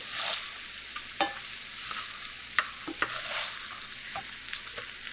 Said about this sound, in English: start getting it to frying a little bit